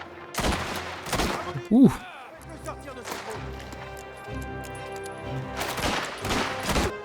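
Gunfire in the Mafia video game, a few sharp shots fired in quick succession and then again a few seconds later, loud and close, with a voice speaking briefly in between.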